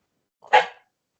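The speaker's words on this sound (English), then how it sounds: "Sorry about that. This dog." A single sharp dog bark, close and loud, lasting a fraction of a second in an otherwise silent indoor room.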